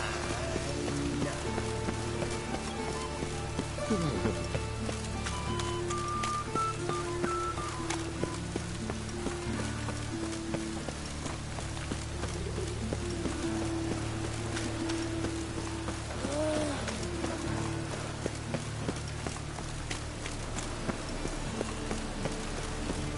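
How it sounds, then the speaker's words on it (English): Steady rain in a video game patters down in a soft continuous hiss, with faint tonal sounds and chirps drifting over it. "rain, I like rain."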